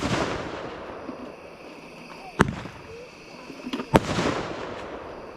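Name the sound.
fireworks exploding at a birthday party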